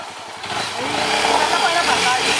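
A dirt-trail motorcycle engine buzzes and revs steadily nearby while someone talks over it, the engine noise rising slightly and holding loud throughout.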